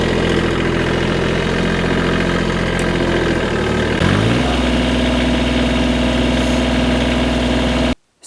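Engine of a four-wheel-drive machine working over rocky ground, a steady close idle-to-mid rumble that dips and shifts pitch around the midpoint, then settles into a constant drone before cutting off at the end.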